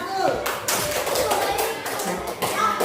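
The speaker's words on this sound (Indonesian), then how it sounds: "Tepuk tangan untuk kelompok 1." Group applause in a classroom for a presenting team of teachers, dense overlapping claps and taps running steadily throughout, loud and close with no pauses.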